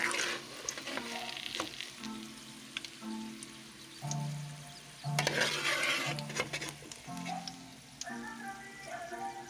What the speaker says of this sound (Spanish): Lo vas a poner a freír y ya que esté bien caramelizada la cebolla